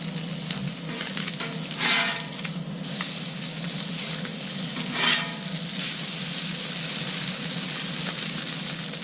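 Batter cooked like a pancake sizzling in a pan on a riverside camp stove, a steady close hiss with a couple of brief louder crackles and scrapes.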